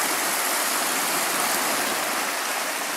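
Rain runoff stream flowing steadily along a mountain hiking trail, a dense, continuous rushing wash of water close by, with no voices or breaks.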